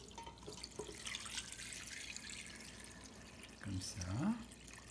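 Liquid poured into a cooking pot over veal, parsley, carrots, thyme, garlic, a clove-studded onion and peppercorns for a blanquette de veau, a soft trickle and splash near the end with a faint voice.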